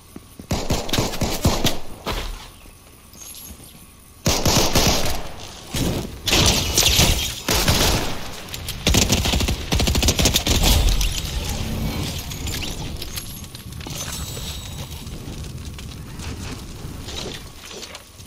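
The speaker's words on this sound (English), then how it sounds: "Shots over here." Gunfire in Fortnite crackles in rapid bursts and scattered shots, loud and close, spread across a long stretch with thuds and rustling movement between volleys.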